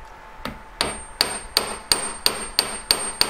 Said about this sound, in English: I'm going to hammer them a bit more